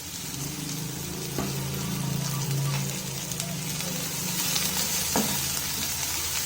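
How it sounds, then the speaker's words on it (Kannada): Carrot, cabbage, capsicum and beans fry in a pan for egg fried rice, sending up a steady sizzle close by. A few soft clinks of stirring come through the continuous hiss. "ಈ ತರಕಾರಿನ ತುಂಬಾ ಫ್ರೈ ಮಾಡ್ಕೊಳ್ಳೋಂತ ಅವಶ್ಯಕತೆ ಇಲ್ಲ"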